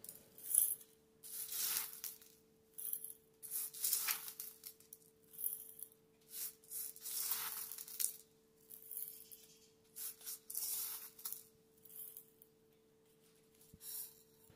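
Dried garlic cloves dropped into a mixer jar in a home kitchen, a run of quiet, crisp rattling clatters arriving in short irregular bursts with brief pauses between handfuls.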